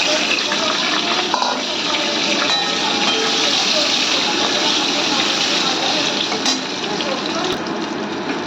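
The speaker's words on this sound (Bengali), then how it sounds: "তেলটা গরম হয়ে গেছে, জিরে দিয়ে দিলাম। এবার ভেজে রাখা আলু পটলগুলো দিয়ে দিলাম।" Previously fried potatoes and pointed gourd go into hot oil seasoned with cumin, producing a loud, steady, dense sizzle that carries unbroken through the whole stretch.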